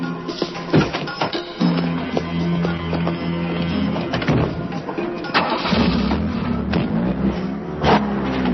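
A car engine cranks and catches, then runs on at a steady mid-pitched idle, fairly close and loud, with a few brief knocks and shifts over its drone.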